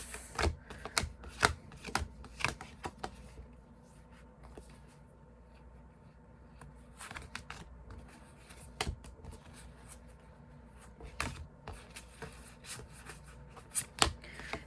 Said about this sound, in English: I'll just shuffle the decks.